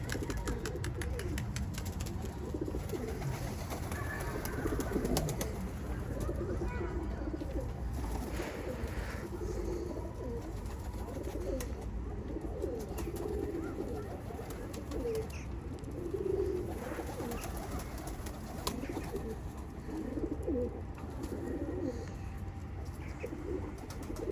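Domestic pigeons coo steadily in a loft, several soft overlapping calls continuing throughout with an occasional wing flutter, close and moderately loud with no talking.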